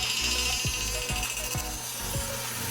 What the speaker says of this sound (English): we got some cellulose foam from Northern Ontario in a 4x2 format, 1/4 inch depth of cut at 870 RPM